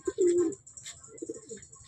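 A racing pigeon gives a close, low throaty coo that rises then trails off, followed by softer cooing murmurs and faint background chirps.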